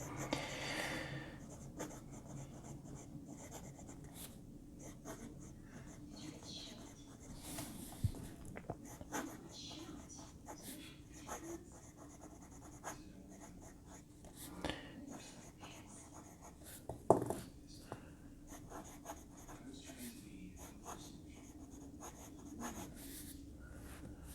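Quiet scratching of a Moonman M6 fountain pen nib moving across paper, with soft irregular strokes and small taps over a low background hum.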